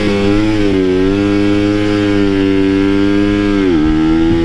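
A Kawasaki Ninja two-stroke motorcycle engine braking uphill, a loud, close, buzzing drone held steady with the revs briefly dipping and recovering on downshifts, no talk.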